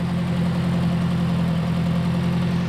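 A 1957 tractor engine with a rotted-off exhaust idles steadily, a loud, close, low rumbling drone with no talk.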